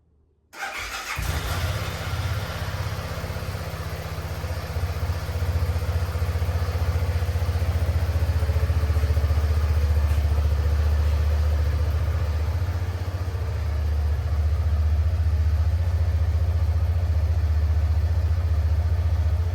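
A motorcycle engine cranks and catches after a second of silence, then settles into a steady, loud, close idle with a deep rumble that holds for the rest of the stretch, no voices.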